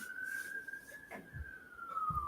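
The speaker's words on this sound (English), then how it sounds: "You can hear sirens in the background." A faint, distant siren wails steadily in the background, its pitch drifting slowly, with a few soft knocks and bumps nearby.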